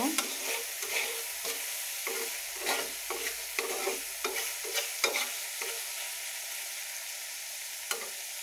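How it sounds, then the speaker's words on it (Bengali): Banana stem and shrimp frying in a pan, a constant bright sizzle punctuated by a regular series of stirring scrapes that thin out near the end, with no talking. "এখন ভালো করে এগুলো একটু ভালোভাবে ভেজে নেব।"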